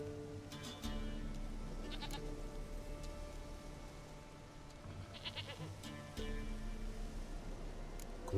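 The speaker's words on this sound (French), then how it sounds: "Une chèvre à moi, gentille," Goat bleating in The Witcher 3, several repeated bleats at a moderate distance over a steady low ambient hum and background game music.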